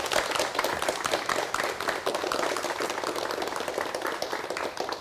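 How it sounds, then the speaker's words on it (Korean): A studio audience on a 1991 Korean TV talk show claps to welcome a guest, a steady, somewhat muffled wash of many hands clapping that holds evenly and fades slightly at the end. "박수로 맞이해 주십시오"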